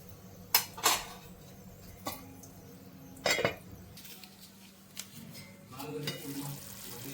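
Sorakaya (bottle gourd) and chana dal curry being stirred in a pot, with sharp spoon-against-metal scrapes and clinks recurring irregularly over a low simmering hiss.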